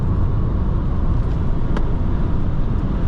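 A Renault Kangoo E-Tech 120 hp electric van taken fast into a curve, with a steady close road and wind rumble from inside the cabin and no distinct motor note.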